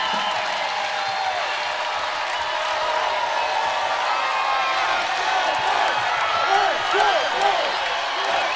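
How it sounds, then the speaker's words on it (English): A basketball arena crowd at a Florida State versus Notre Dame game roars steadily, with cheering and whoops building over several seconds while a commentator talks over it. "And this crowd can feel it. It's getting loud in here right now."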